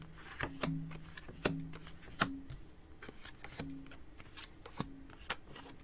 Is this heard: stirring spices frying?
no